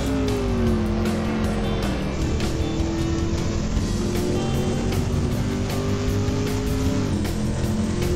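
A race car engine roars in Assetto Corsa during a WorldSimSeries online race, loud and continuous, with rising and falling revs and brief dips at gear shifts.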